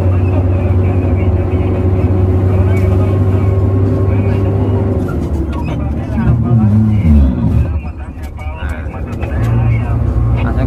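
A Hanvan G7 dump truck's diesel engine drones steadily while the clutch is worked and gears are shifted. The note drops and roughens partway through, then settles back, with voices talking over it.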